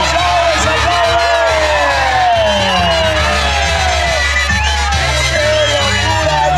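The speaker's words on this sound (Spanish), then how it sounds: "Se aplaude, se aplaude, se aplaude." A large crowd at a jaripeo bull-riding event in Tamazulapam del Espíritu Santo roars with cheers, whoops and shouts, loud and continuous, while an announcer's amplified voice talks over the din.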